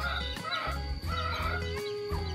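Chickens, including a rooster and newly hatched chicks, cluck and cackle close by in a busy yard while being fed, with overlapping calls over a loud, constant background hum.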